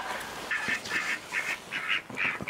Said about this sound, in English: The ducks like it near the outdoor kitchen.